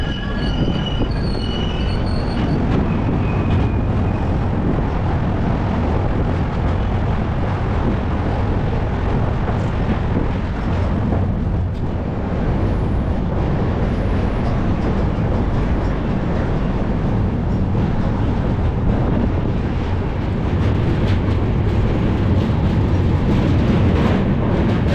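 The 22834 Bangalore–Bhubaneswar Humsafar Express crosses the Krishna River. A loud, continuous roar of wheels and carriages fills the whole stretch, with metallic wheel squeal rising over the rumble and no voices.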